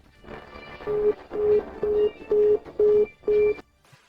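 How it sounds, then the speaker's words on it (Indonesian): Repeating telephone busy signal after an unanswered call: six steady tone bursts, each about a quarter second, with even gaps between them, clear and close against a faint hum of background noise. "Beraninya kamu, Qi Yingchun, tidak mengangkat telepon saya."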